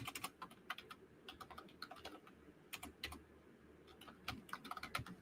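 Fingers tap steadily on a computer keyboard in a quiet room, a close, irregular run of crisp key clicks with brief pauses between bursts.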